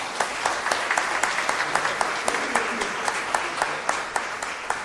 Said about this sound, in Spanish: le vamos a dar un fuerte aplauso a él hoy